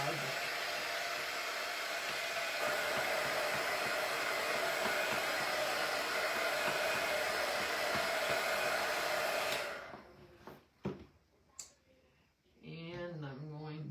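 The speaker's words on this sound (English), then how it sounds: "I'm gonna dry it just a wee bit." A hair dryer runs steadily and loudly for about ten seconds, drying a painted raven and pumpkins craft, then cuts off, followed by a few handling clicks and a person talking.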